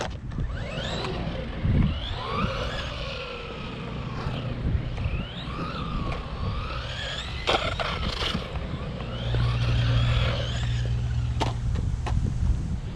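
A DeeRC 001E radio-controlled car on its first run at a skatepark, a steady whining motor hum with wheel and surface noise rising and falling, close by and continuous with brief clatters.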